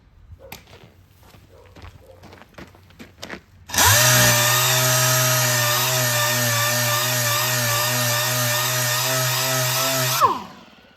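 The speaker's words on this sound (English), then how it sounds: "I'm just gonna sand that spot real quick" A power sander works a spot of bodywork on a sit-down arcade cabinet, starting abruptly after some light handling clicks and then running at a loud, steady high whine for about six seconds before cutting off.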